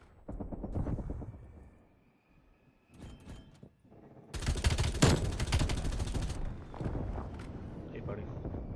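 Automatic fire from the LC10 submachine gun in Call of Duty: Cold War, loud rapid bursts crackling in several clusters, with a player talking between them.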